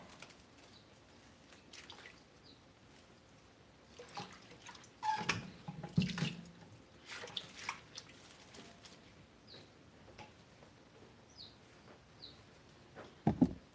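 Vegetables are washed in a sink of water, with faint sloshing, drips and scattered splashes that pick up in the middle, then a sharp knock near the end, all quiet and close without talk.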